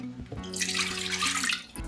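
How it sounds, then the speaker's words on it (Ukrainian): Water pours steadily into a small saucepan while making choux dough for eclairs, a continuous close splashing stream running for most of the clip with no talk. "Беру каструльку, вливаю воду"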